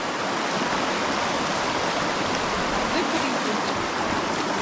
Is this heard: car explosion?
no